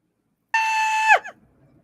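A single sharp, high-pitched scream bursts out alone for about half a second, holds steady, then breaks off with a brief falling tail in an otherwise quiet room.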